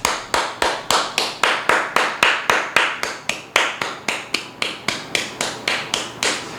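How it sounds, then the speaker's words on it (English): Clapping in applause at a public event: evenly spaced, sharp claps in a steady rhythm of about three per second, loud and close, with no voices. "clap for her and give her a standing applause, a standing ovation"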